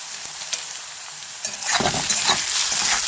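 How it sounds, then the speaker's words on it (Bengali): Aloo poha with turmeric and salt sizzles in a pan while being stirred, soft scraping at first, then a louder, steady frying hiss up close. "আবার একটু নেড়ে চেড়ে নিলাম।"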